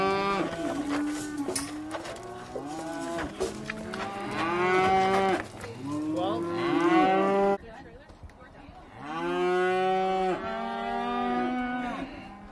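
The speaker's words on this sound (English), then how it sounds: "through the window there, cattle come in" Cattle moo repeatedly at a feedlot scale house, the loud, drawn-out calls of several animals overlapping close by.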